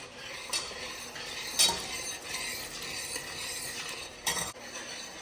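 A spoon stirs tomato soup in a pot, scraping softly, with a few sharper clinks against the side over a faint bubbling hiss.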